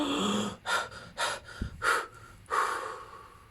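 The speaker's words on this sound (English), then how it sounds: "the sounds you make while you're gasping for air" A person gasping for air in several sharp, ragged breaths, each intake harsh and close, separated by brief pauses.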